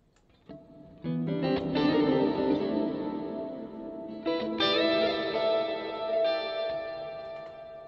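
An electric guitar played through a Line 6 HX Stomp reverb effect plays sustained chords drenched in reverb, the notes ringing out and washing into long, echoing tails.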